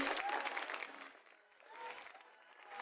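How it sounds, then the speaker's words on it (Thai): Applause marks a doll coronation scene in a playful Frozen role-play with Elsa and Anna, a steady wash of clapping that swells, dips midway and rises again, fairly quiet and unaccompanied by speech. "ปรบมือให้หน่อย"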